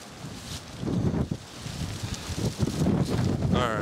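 Wind buffets and roars across the microphone on a December hike in Shawnee Mission Park, gusting unevenly in loud rushes over a few seconds with no talk.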